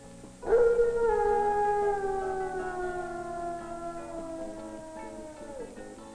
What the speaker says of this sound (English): By 3 months of age, the pups can howl like adults to communicate with other wolves.